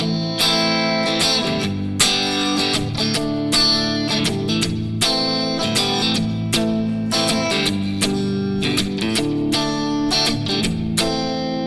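Palm-muted electric guitar strummed in a subtle rhythm, steady chugging chords with accented strokes recurring at a regular pulse, close and clear with no voices.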